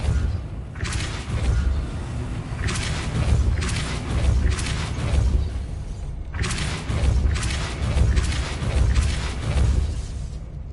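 Depulso spells are cast in Hogwarts Legacy, a series of forceful whooshing bursts with thumps and mechanical creaks, roughly five or six blasts spaced a second or two apart, fairly close and moderately loud.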